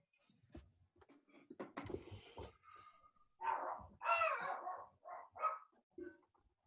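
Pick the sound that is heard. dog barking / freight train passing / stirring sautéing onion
dog barking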